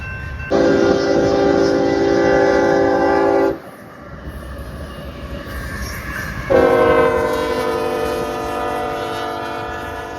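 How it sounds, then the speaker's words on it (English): A long BNSF freight train passes on the rail line, sounding two long, loud horn blasts with a short gap between, over a steady rumble of rolling cars. "That train right there completely materialized out of nowhere."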